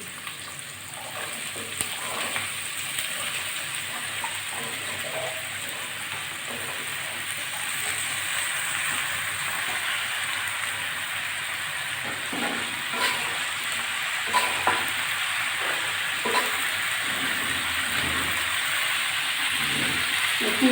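Potato, pointed gourd and brinjal frying in a pan, a continuous hissing sizzle that grows slightly louder partway through, with scattered stirring clicks and scrapes, no talk.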